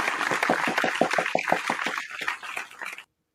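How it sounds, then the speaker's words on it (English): A small group gives a round of applause on a casual beer-sharing show. The claps are quick and steady, fill about three seconds at moderate loudness, then cut off abruptly. "Round of applause there."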